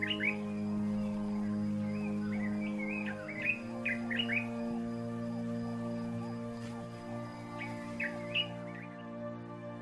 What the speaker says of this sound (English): This is a dark-capped bulbul.